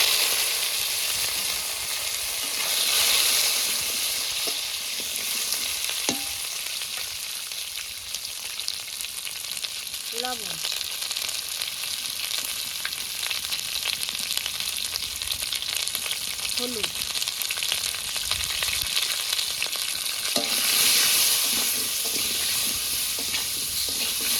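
Potatoes frying in hot oil with bay leaves, cumin and radhuni in a home kitchen, giving a steady, loud sizzle throughout, with occasional stirring scrapes and clinks.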